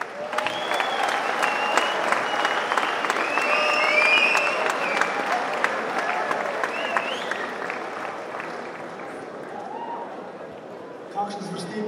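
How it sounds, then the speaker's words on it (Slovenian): Audience at a Slovenian student community concert in 2014 breaks into sustained applause, dense and steady clapping that swells in the middle and then tapers, with scattered cheers and a voice or two rising over it. "Zato predlagam en velik aplavz za vzpodbudo in da nas čim prej mine trema."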